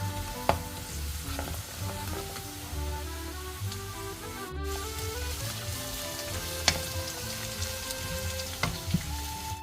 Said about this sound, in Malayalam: ഇനി കുറച്ച് വെളിച്ചെണ്ണ ഒഴിച്ച് കടുക് പൊട്ടിച്ച് അതിനകത്ത് വെളുത്തുള്ളി ഇഞ്ചി ഇടാവേ.